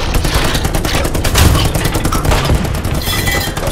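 Loud, dense gunfire in a shooting video game, a continuous barrage of overlapping shots and impacts with no pauses across the whole stretch.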